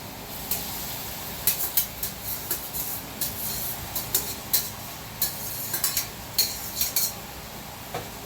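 Boiled noodles stirred in a pan, a rapid series of sharp metallic clicks and scrapes from a utensil against the pan over a soft background hiss, close and fairly loud, no voices.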